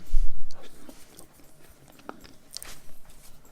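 Close chewing and crunching of a saltine cracker topped with Vienna sausage, with soft bites and mouth sounds at low volume and a little faint talk in the background.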